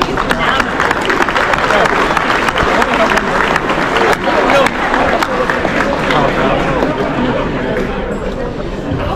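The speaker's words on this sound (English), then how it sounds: "Give yourselves a round of applause," A crowd at a US Army celebration held by Kenyan and Tanzanian community members bursts into loud clapping and cheering, close and dense, with chatter and voices mixed through the applause.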